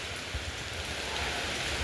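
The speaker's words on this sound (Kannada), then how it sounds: "ಮಳೆ ನೋಡಿ ಹಿಂಗೆ ಸುರಿದ್ರೆ ಹೆಂಗೆ ಮಾಡೋದು ಮಳೆನ" Heavy rain pours steadily in a dense, even hiss, fairly quiet and continuous with no voices.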